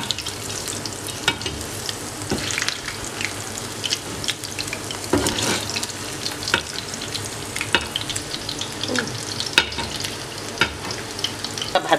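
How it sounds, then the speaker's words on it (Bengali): Fish (foli) kofta fry in hot oil, a continuous close sizzle broken by frequent scraping and stirring knocks of a utensil against the pan. "ভাজি করতে হবে"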